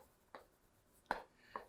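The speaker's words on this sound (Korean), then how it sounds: "제가 써볼까요? 그러면 써볼게요." Chalk or marker strokes on a lecture board during a Korean real estate class, three short scratchy bursts spaced apart, faint and alone with no talking.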